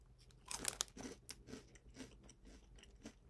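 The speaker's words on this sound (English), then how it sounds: "The Cheetos, Flamin' Hot, Chipotle Ranch, Crunchy." Crunching of Cheetos Flamin' Hot Chipotle Ranch snacks, a close series of sharp, irregular bites and chews with crisp crackles, heard alone without talk.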